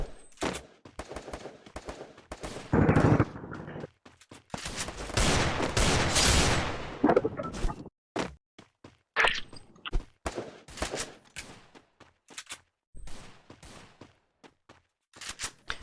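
Sustained gunfire in the mobile battle royale Free Fire, with long dense fusillades and machine-gun bursts broken by gaps and separate sharp single shots, loud and continuous through most of the stretch.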